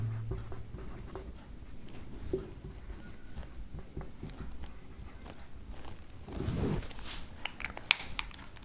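Pen or chalk writing on a board during a math lecture, soft scratchy strokes and taps continuing steadily at close range with no talk.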